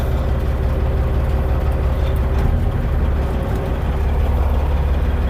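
A semi truck's twin-turbo, 700-horsepower Caterpillar C15 diesel engine runs with a deep, steady low rumble that fills the cab, loud and continuous without any voice over it.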